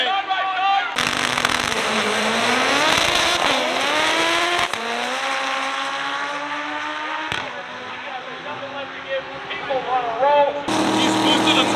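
A turbocharged race car accelerates hard at a drag strip, its loud engine note climbing in pitch with rising boost over about ten seconds, with crowd or bystander voices in the background.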